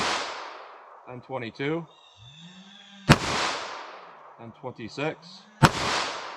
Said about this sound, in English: let's see how close we get to 1150 feet per second with our full metal jacket and our little subcompact pistol here